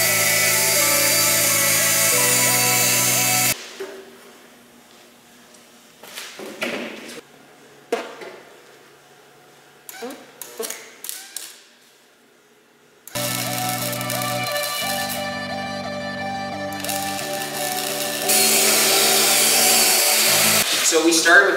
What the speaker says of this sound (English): And then we got my die grinder and the blending wheel